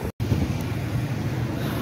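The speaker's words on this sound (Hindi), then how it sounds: "बहुत ज़्यादा तेज़ हवा चल चुकी है, आंधी या बहुत ज़्यादा आ चुकी है।" A strong gusting wind of a dust storm on a road trip toward Faisalabad roars steadily and loudly with a deep rumble, like wind buffeting a microphone, broken by a very brief dropout near the start.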